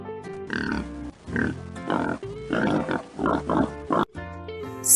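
A farm pig grunts in repeated short bursts amid a busy, harmonic background, probably music, heard close and fairly loud across the clip.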